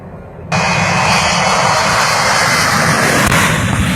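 A cargo plane's engine cuts in abruptly after a brief quieter moment, then holds a loud, steady roar with a faint high whine, close and continuous, with no talk over it.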